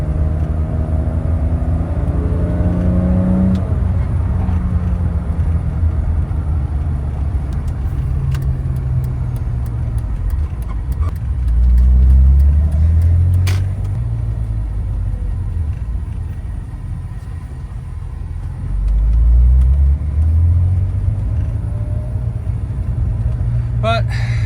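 A BMW 330ci with a rubbing, knocking drivetrain fault rumbles steadily along the road from inside the cabin, and its engine note swells and falls now and then while a person talks over it.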